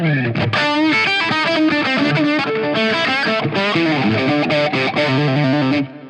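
An electric guitar plays through an amp with a tube zone distortion pedal, producing a loud, gritty, sustained run of notes and chords that cuts off near the end.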